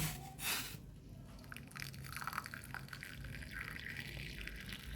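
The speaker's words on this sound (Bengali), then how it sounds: "এবার চাটা ঢেলে দেব" Darjeeling tea pours into a ready cup in one steady liquid stream, a soft splashing trickle running for several seconds, close and fairly quiet.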